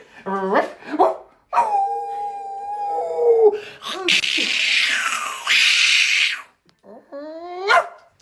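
A dog howls up close in long rising and falling wails, broken by short yips and barks, with pauses between the loud howls.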